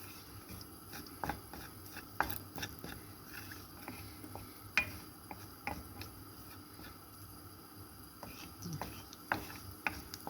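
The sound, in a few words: mustard seeds popping in hot oil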